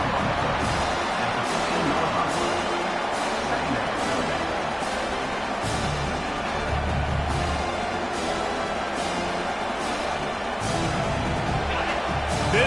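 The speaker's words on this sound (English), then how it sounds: "It is getting loud as this crowd tries to help its defense." Loud, steady stadium crowd roar from a football video game swells and dips slightly throughout, with a commentator's voice talking over it.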